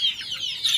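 Young free-range village chickens about two months old clucking nearby, a short run of soft overlapping clucks with no talking.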